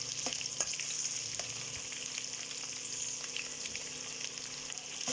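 Large-sliced onions frying in a pan for a cabbage dish, a steady bright sizzle with small crackles and occasional stirring scrapes, close and even throughout.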